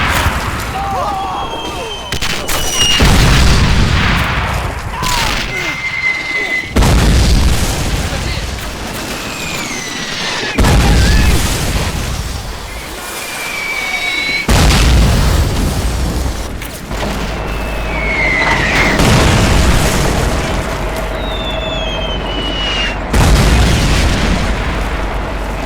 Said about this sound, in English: Russian artillery's opening up along with the Katyushas.